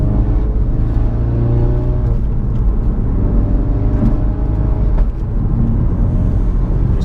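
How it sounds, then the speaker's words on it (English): A loud Ford Focus RS Mk3 engine rumbles steadily, with a continuous low burble and occasional exhaust crackles, pops and bangs over the drone. "It's the popping and banging and the burbling over."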